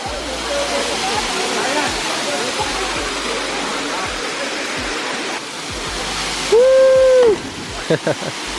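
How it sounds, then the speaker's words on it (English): Gozalandia Falls in Puerto Rico rushes in a constant loud roar; near the end a person briefly speaks over the steady pour of water. "Alright, so here we got the second waterfall"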